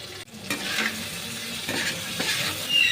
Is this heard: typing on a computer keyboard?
no